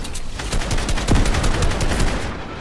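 Rapid video-game gunfire and RPG blasts hit a tall tower, a dense burst of sharp repeated cracks with one heavier low thump in the middle, loud and close.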